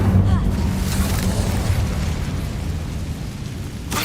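In Hogwarts Legacy, the Incendio fire spell is cast with a loud, steady roaring whoosh of flame that rumbles for several seconds and cuts off sharply at the end.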